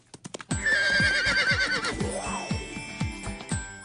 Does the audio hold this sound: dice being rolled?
no